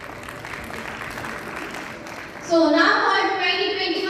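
Loud applause erupts suddenly at an award ceremony of a Bhopal career institute held at SAGE University, following a stretch of murmuring crowd and distant talk, then holding steady and dense.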